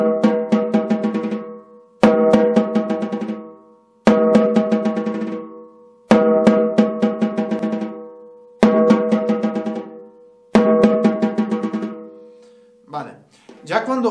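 A drumstick dropped onto a snare drum head bounces freely, each strike followed by a quickening series of rebounds that fade out, repeated about six times with short pauses between.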